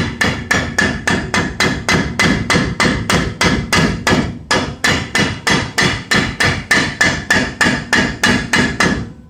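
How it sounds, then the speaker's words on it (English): A hammer taps steadily and loudly, blow after blow in an even rhythm, against the rear brake drum of a Ford F150 pickup truck to work it loose. The strikes are close and carry on without a break. "you can get it on the back side and you can start tapping it all the way around here"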